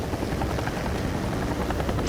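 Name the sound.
firefighting helicopter flying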